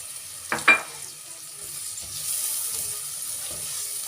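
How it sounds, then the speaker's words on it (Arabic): A brief loud sizzle as onions hit hot oil, then a soft steady frying hiss that continues quietly. "حطيت فيها حوالي 4 معالق زيت وخلاص، واستنيت اما سخنوا. هنزل بالبصل الاول"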